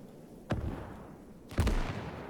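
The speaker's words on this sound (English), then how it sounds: "The battle, as always, begins with a little and short artillery barrage, softening up the Russian defenses." Two deep, muffled artillery explosions from a short barrage against Russian defenses in the Gates of Hell video game, each a heavy low boom followed by a rumbling tail, distant-sounding over a quiet background.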